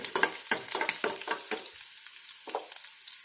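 Star fruit for pickle sautéing in sesame oil: a steady close sizzle with repeated stirring scrapes at an uneven rhythm, alone and without voices.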